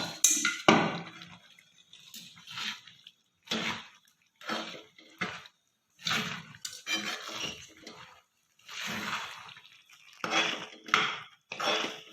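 A spoon scrapes and clinks in a pot while mixing a thick edible gum sweet mixture of gond peth, irregular close bursts of stirring separated by short quiet gaps.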